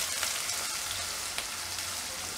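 Chopped onion sizzles in hot oil for a Gujarati green bean curry, a steady, dense crackle with light spattering throughout, close and even in loudness.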